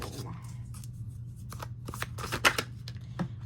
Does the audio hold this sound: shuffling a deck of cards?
yes